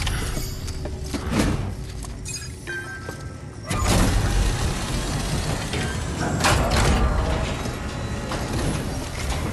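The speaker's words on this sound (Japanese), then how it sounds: "やっとカイラルプリンターが稼働する。" A chiral printer in the video game Death Stranding starts up with loud mechanical whirring, ratcheting gear clatter and heavy thuds, growing denser after a sharp clunk partway through.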